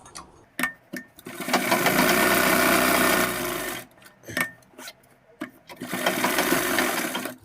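Sewing machine stitching a zipper onto a half-elastic pant, running in two loud close bursts of rapid stitching separated by brief handling clicks and pauses.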